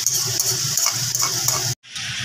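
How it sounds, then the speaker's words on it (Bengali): Chopped onions with salt and garam masala fry in a pan with a steady, close sizzling hiss and light stirring scrapes, broken by a brief gap before the sizzle resumes. "এবার পেঁয়াজটাকে ভেজে নেওয়া হচ্ছে"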